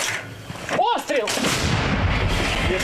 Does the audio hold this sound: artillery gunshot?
yes